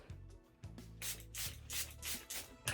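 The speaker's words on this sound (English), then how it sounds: "Oops, did an extra spray there." A skincare spray bottle of aloe hyaluronic acid mist gives several short, breathy spray bursts that hiss close up in quick succession, mixed with soft rubbing and low hum between them.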